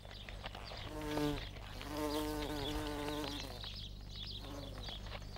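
A bee cleaning pollen from its abdomen gives off a close, wavering buzz that rises and falls in pitch in several bursts, heard alone against a quiet natural background.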